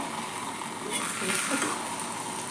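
Homemade pizza made from a batter-based flatbread fries in a pan with a steady, soft sizzle. The even crackling hiss holds throughout, with a few faint clinks of a utensil against the pan.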